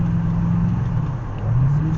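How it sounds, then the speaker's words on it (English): A 1996 Chevrolet Impala SS V8 accelerating along the back stretch of Nelson's Ledges road course, its engine droning loud and close with a low steady tone that dips briefly, then climbs in pitch as revs rise. "As soon as we kind of get past this cone, we're going to accelerate through the back stretch again."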